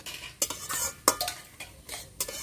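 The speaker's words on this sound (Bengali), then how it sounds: "শাকগুলো ভালো করে আমি নেড়ে চেড়ে ভেজে নিয়েছি।" Water spinach greens stirred and fried in a pan over a village clay stove, sharp metal spatula clinks and scrapes against the pan over a faint sizzle, close and irregular.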